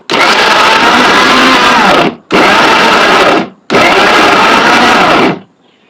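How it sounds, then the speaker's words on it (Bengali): An old blender motor runs loudly in three long bursts of about two seconds each, mincing chicken, with brief pauses between, then stops. "ব্লেন্ডার জারোর মাঝে চিকেন কিমা করার লাগি প্রস্তুতি নিলাম।"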